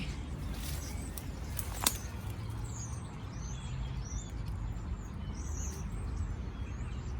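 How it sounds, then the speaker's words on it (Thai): Faint, high chirps from small birds scattered across the background over a steady low rumble, with one brief sharp click early on. "นกน้อยๆร้องเสียงกิ๊บจิ๊บจิ๊บจิ๊บจิ๊บแบบเพื่อน"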